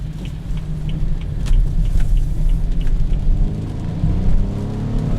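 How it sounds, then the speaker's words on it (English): A 2015 BMW 428i with a turbocharged 4-cylinder engine of about 250 horsepower drives along, a steady low engine rumble with road noise inside the cabin and a faint light jingle over it. "This car is powered by a turbocharged 4-cylinder"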